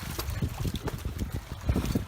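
Steady wind buffets the microphone outdoors near a pine forest on a Mediterranean island, a continuous rumbling gust with fluttering low thumps and no voices.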